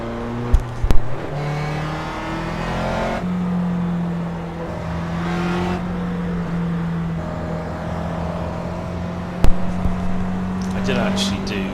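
A GT race car in the iRacing PC racing sim at Mosport hums with a steady, loud engine drone while it follows the pace car, with a few sharper bursts near the start and end.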